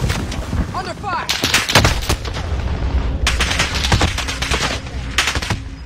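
Gunfire in a battle royale video game, rapid bursts of automatic shots and scattered single cracks coming in dense clusters, loud and close, with a player's voice talking briefly amid the shooting.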